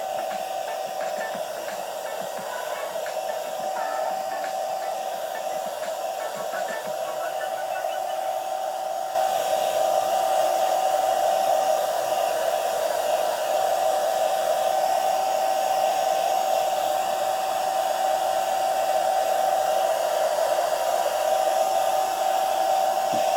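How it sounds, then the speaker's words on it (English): A heat gun blows steadily on custom shoes, a loud, constant roaring whoosh with a tonal whine that steps up in intensity partway through and holds. "just watch what happens when I throw this heat gun on it"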